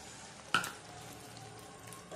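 Frozen green peas tipped into a pan of hot spices for a vegetable Kolhapuri curry: a sudden soft splash and sizzle that quickly fades into a quiet, steady fry with light stirring.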